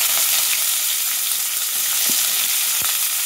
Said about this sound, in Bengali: পেঁয়াজটা আমি একটু গোল্ডেন ব্রাউন করে ভেজে নেব।